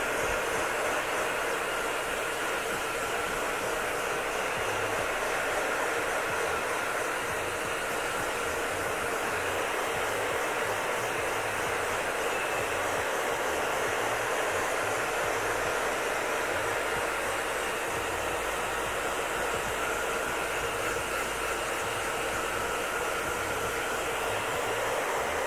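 A hair dryer on its cold setting blows a steady, loud, unbroken airflow roar while hair is styled into nudreds on short hair, with no talking over it.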